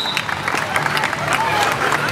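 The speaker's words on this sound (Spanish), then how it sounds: "Fuerte el aplauso para ellos." Crowd applause for students who have just built human pyramids at a Revolution Day parade, steady scattered clapping from many people outdoors, fairly loud and continuous.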